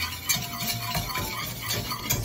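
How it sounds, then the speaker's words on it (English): A whisk beats ingredients for a shark fin pudding in a bowl, a quick rhythmic run of clinking, scraping strokes close up. "Whisk to combine"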